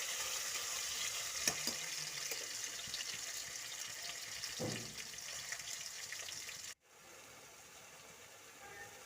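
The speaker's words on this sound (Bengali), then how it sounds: "পেস্টটা দিয়ে ভালোভাবে কষিয়ে নিয়েছি" Spice paste frying for coriander chicken, stirred in a pan: a steady hiss with occasional spoon knocks, close but fairly quiet, cut off abruptly and replaced by a duller hum toward the end.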